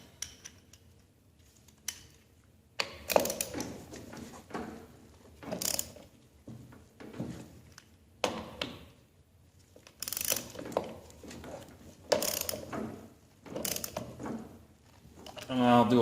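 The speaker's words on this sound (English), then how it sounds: "Come back with a regular ratchet, tighten them down." Ratchet wrench tightening bolts on an Ariens ST824 two-stage snow blower during service, heard as repeated short bursts of rapid clicking with pauses between, fairly close, alongside workshop handling noise.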